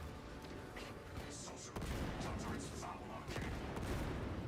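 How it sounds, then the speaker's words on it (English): Heavy bolt rifle with a grenade launcher firing in a science-fiction shooter video game, a dense continuous barrage of gunfire and explosions with loud thumps, fairly quiet overall. "Heavy bolt rifle with a grenade launcher is kind of nutty."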